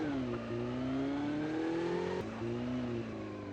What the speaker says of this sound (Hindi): मुझे सामने एक सुप्रीम डीलक्स मोटर बाइक दिख गई, तो मैंने उसी को लेके स्टैंड ऑफ निकल गया